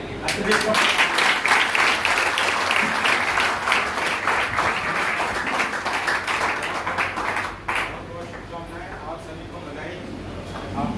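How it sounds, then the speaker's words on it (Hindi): Applause at a stage event in an auditorium, a dense crowd clapping that carries for several seconds, then drops after a sharp break, with voices talking throughout. "इसके लिए तालियां"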